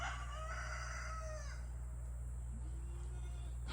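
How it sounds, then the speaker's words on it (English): A rooster crows once in a long, wavering call over a steady low hum, on a small backyard farm near an okra patch; a fainter, thinner call follows toward the end. "Rooster."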